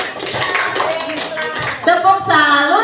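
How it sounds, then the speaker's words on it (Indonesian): An audience at a positive-culture dissemination event claps together, the applause running under a speaker's voice for a few seconds. "Tepuk tangan buat kita semua."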